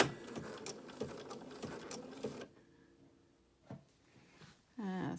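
Bernina sewing machine stitching an appliqué with an open toe foot: a dense, steady mechanical stitching rattle for about two and a half seconds, then quiet handling clicks and a brief whirring burst at the end.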